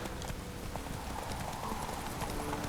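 The horse Roach galloping in the video game The Witcher 3, with steady, fast hoofbeats under a thick wash of outdoor ambience, moderately loud and with no talk.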